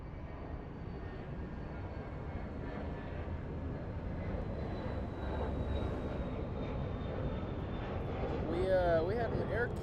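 An Air Canada airliner inbound from Toronto rumbles at LAX, a steady distant jet roar with a faint high whine, while voices talk nearby toward the end.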